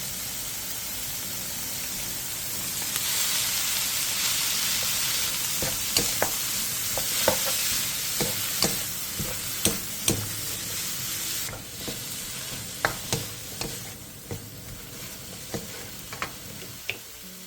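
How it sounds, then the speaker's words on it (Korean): Crown daisy greens stir-fried with one egg and a spoonful of oyster sauce over high heat, giving a steady close sizzle with frequent sharp scraping and clacking strokes of a utensil against the pan, no talking. "그 다음 쑥갓, 계란 1개, 굴소스 1스푼을 넣고 2, 3분 정도 더 볶아주세요."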